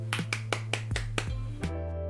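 Hands in gloves clap about seven times in a steady, even rhythm, each clap a soft, slightly muffled slap, over a continuous low tonal background.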